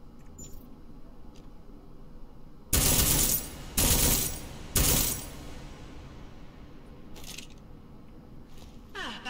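Suppressed gunfire at a video game shooting range: three loud, broadband bursts close together, each lasting under a second, followed by fainter scattered shots and a final burst over quiet background.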